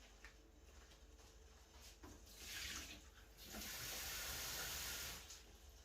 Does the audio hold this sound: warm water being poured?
yes